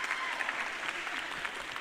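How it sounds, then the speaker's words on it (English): Steady audience applause at a live stage talk, a dense continuous patter of clapping that fills the whole stretch, with faint crowd voices mixed in. "We give her the round of applause, please."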